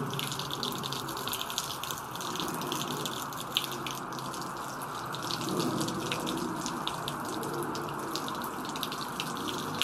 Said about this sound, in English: How fast is that water coming out of that pipe?